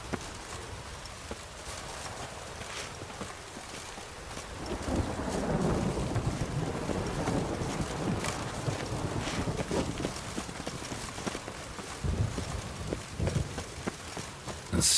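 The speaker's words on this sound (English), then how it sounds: "A storm, damn it." Heavy rain and wind roar continuously in The Witcher 3: Wild Hunt, with rumbling thunder swelling midway and another crack of thunder later on.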